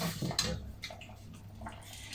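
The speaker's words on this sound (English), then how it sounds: "Let the water come off of here" Water drains off cooked spinach pasta in a colander, a close, quiet splashing and trickling with a brief clatter of pot or strainer at the start.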